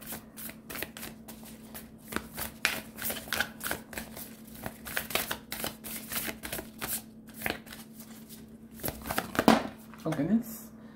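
Tarot cards are shuffled by hand in quick, riffling bursts of papery flutters and soft slaps, close and fairly steady throughout.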